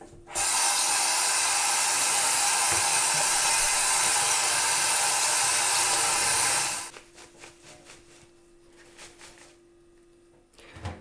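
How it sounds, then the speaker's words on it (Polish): Stinging nettle leaves washed under a strong running tap, a loud, steady broadband rush of water lasting several seconds, then stopping abruptly and leaving quiet kitchen handling sounds. "Na razie myję pokrzywę."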